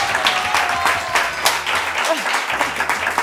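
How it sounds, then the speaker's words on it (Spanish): A small television studio audience applauding steadily, a dense patter of clapping hands that continues evenly throughout, with a faint voice underneath. "Un aplauso para ella."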